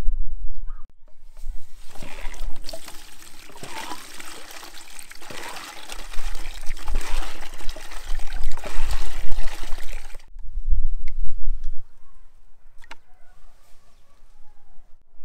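Water splashes and trickles in a container as the roots of a grapevine cutting are set to soak before planting. A dense, close gush continues for about ten seconds, then thins to scattered drips and small splashes.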